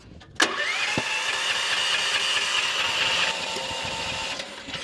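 Engine of a small mini dumper at a check-dam building site starts with a sharp bang, then idles in a steady, loud, buzzy drone before dropping slightly toward the end.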